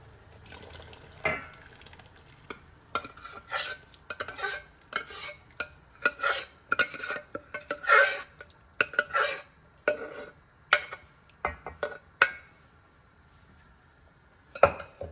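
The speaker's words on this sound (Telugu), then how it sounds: "మన పప్పుని ఇందులో వేసేసుకుందాం" A spoon stirs boiled dal into sambar in a metal pot, producing irregular scrapes and clinks against the pot walls with quiet pauses between strokes, close and without talk.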